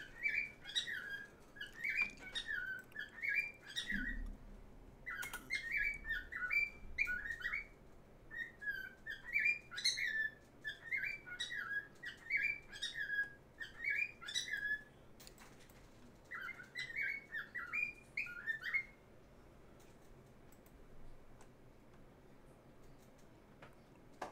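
A pet bird chirps and whistles in repeated bright, quick bursts, fairly close, over a quiet room hum, with brief pauses between phrases before the calls thin out near the end.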